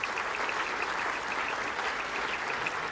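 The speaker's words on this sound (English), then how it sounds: "Could we have a round of applause for these beautiful custodians," A large dinner audience at an awards gala claps in sustained, even applause, a dense patter from a distance at moderate volume throughout.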